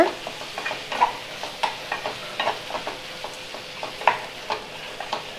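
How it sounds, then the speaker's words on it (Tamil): A spoon stirs sizzling tomato masala in a pan for a soya chunks curry, giving repeated close scraping strokes over a steady hiss of frying, with no voices. "ஸோ இப்போ இதை நல்லா கலந்து விடுங்க."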